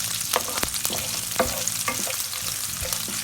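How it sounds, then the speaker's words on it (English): Finely sliced garlic and chilies frying in olive oil for aglio e olio, a loud continuous sizzle with utensil strokes mixing them through the pan. "add the garlic and the chilies all together. And just mix that in."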